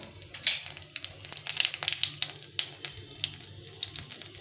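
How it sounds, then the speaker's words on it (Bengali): Black cumin seeds sizzle and crackle in hot oil in a pan, a close, busy spattering with rapid small pops throughout. "এখন আমি এর মধ্যে একটু বেশ কিছুটা পরিমাণে কালো জিরে ফোড়ন দিয়ে দেব"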